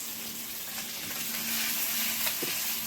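Food fries in hot oil in a pan, browning to a reddish colour, with a steady, close sizzling hiss that continues throughout, a slight swell midway, and a few faint clinks near the end.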